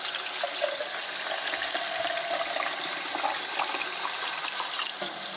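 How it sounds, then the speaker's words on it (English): Hot water pours steadily into a blender over frozen mango for a smoothie, a continuous close splashing gush with no pauses. "But to combat the frozen mango, I add hot water."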